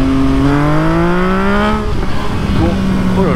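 An MV Agusta Brutale 800 motorcycle engine revs hard on a rough road. The tone climbs steadily in pitch, drops off sharply, then picks up again, loud and close.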